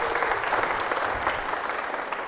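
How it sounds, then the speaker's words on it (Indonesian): Sustained applause from a crowd of students at a school session, a dense patter of clapping that holds steady throughout. "tepuk tangan dong buat kita semuanya"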